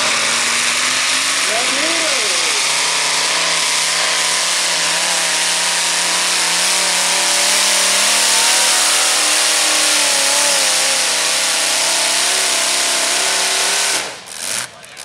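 A loud modified tractor engine at a tractor pull revs hard and holds a high, strained roar for a long stretch, then cuts off abruptly near the end.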